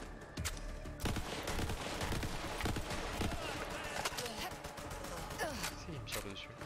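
An enemy's burst-fire gun in Borderlands 3 lets off a rapid volley of sharp shots amid busy game noise, while someone talks over it.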